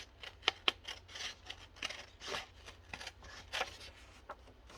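Close snips and slides of scissors cutting through paper for a craft project, a few sharp crisp cuts followed by a run of softer cutting strokes, with no talking.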